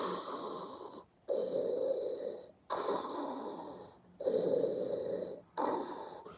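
A voice imitates Darth Vader's mechanical mask breathing: four long, loud, raspy inhale-exhale cycles with brief pauses between them, heard alone.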